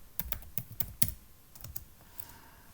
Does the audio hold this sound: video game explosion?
no